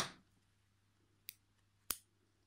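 Crochet yarn snipped with scissors in a quiet room, a soft rustle at the start followed by two short, sharp cuts about half a second apart, close and faint overall.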